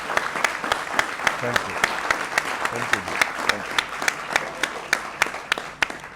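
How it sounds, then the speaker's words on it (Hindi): Sustained studio audience applause greets guests on a Hindi TV interview set, a dense steady wash of many hands clapping with sharper individual claps standing out, continuing unbroken for several seconds. "हमारी ऑडियंस भी है जो तालियां बजाकर आपका स्वागत करना चाहती"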